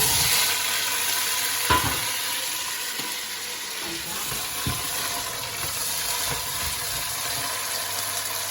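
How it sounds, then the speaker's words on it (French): Broad beans frying in butter and sunflower oil give a steady, close sizzle with a few soft clatters and scrapes of stirring, no voices. "J'ai mis le beurre avec les tournesols. J'ai laissé un peu sur le feu. Là maintenant je mets les fèves."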